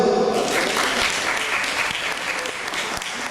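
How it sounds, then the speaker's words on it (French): Audience at a gift basket weighing event applauds an association, a continuous wash of clapping from a mid-sized crowd that stays steady and fades slightly toward the end. "Vous pouvez encore les applaudir"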